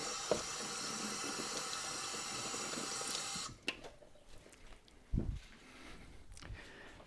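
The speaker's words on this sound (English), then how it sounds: "I'm going to give it a quick wash with some water" Tap water runs steadily over a Turner 4 1/2 smoothing plane, a continuous loud splashing rush that stops abruptly partway through, followed by a few faint clunks and a brief knock as the wet plane is handled.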